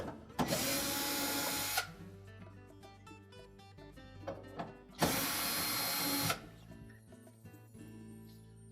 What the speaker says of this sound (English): So next we'll remove these 2 screws.